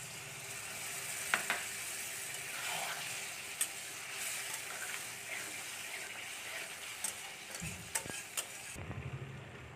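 A splash of water goes into a pan of dried fish curry, setting off a soft, continuous sizzle and bubbling, broken by a few light clinks and taps, with no voices.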